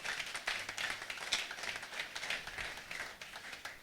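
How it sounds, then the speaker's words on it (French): Church congregation clapping together during a service, a steady dense patter of many hands filling the room, with no talking over it. "Acclamons."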